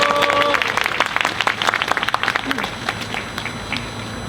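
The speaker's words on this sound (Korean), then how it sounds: "다시 한번 지지와 연대의 박수 보내주시면 고맙겠습니다." Audience clapping in support at a Monday prayer service, a brief burst of dense applause that thins out toward the end, with some voices underneath.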